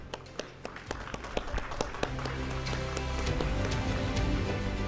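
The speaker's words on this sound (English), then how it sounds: "Round of applause, please, ladies and gentlemen" During a souvenir presentation at a keynote event, scattered individual claps from the audience thicken into fuller applause, with music swelling underneath.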